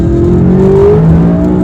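A McLaren 570S sports car accelerating hard, its engine note climbing steadily, loud and close with no talking.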